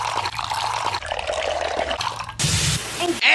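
Water pours and splashes in several choppy segments, with dripping and a brief louder gush of running liquid toward the end, up close and without voices.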